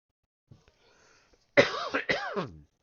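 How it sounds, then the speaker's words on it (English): A man coughs several times in quick succession, loud and close, after a short quiet pause with faint small noises. "Whatever's got me coughing will go away eventually"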